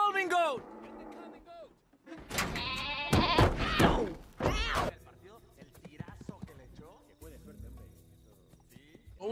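Short animal bleats and cries from a goat in an animated film come in bursts amid clattering, thumping action sounds, with a character's voice speaking over parts of the scene.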